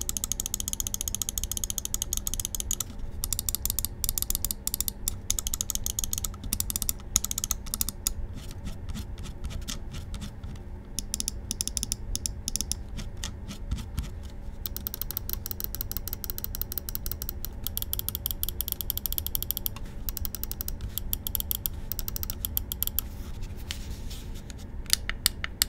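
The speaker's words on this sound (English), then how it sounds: "As for the sound, why don't we go ahead and test it out for ourselves right now?" Scroll wheel of a G-Wolves Skoll Mini SK-S Ace Edition gaming mouse is rolled in bursts, giving rapid, fine ratcheting clicks that come and go over a faint background hiss, close and quiet.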